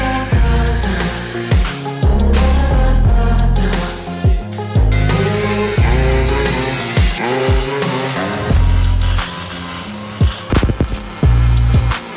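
A power tool bites in repeated bursts while cutting welded parts out of a Jeep YJ, loud and close, with short pauses and pitch drops between cuts.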